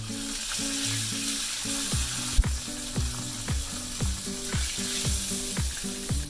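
Water poured into a hot pan while cooking Tamil-style maize corn upma with curry leaves gives a steady sizzling hiss. Rhythmic tonal background music plays throughout, and a sharp clatter lands midway.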